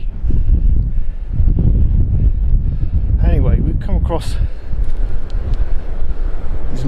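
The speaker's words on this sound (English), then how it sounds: "this is so windy." Strong outdoor wind buffets the microphone near a wartime Matilda tank, pillbox and landing craft, a loud low rumbling roar that gusts continuously while someone talks over it.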